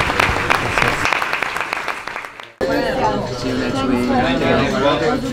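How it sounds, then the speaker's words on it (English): A crowd applauds backstage during a Mallorca residency, bright scattered clapping that cuts off abruptly midway, followed by someone speaking over lingering chatter. "I want to give you a big applause from all of you"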